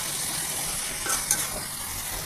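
Sliced eggplant and potato hit a hot frying pan for a dried-fish curry, giving a continuous close sizzle with a couple of brief utensil clinks midway.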